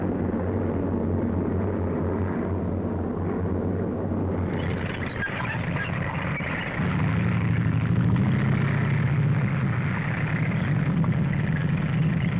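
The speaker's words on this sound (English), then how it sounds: "American transport planes loaded with supplies follow us as we advance." American World War II transport planes loaded with supplies fly over a convoy advancing in North Africa, their engines a continuous heavy drone that swells and shifts partway through.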